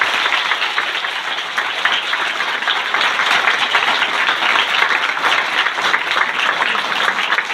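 Steady, dense applause from a large crowd at a Christian worship service, sustained and even throughout with no break or talking.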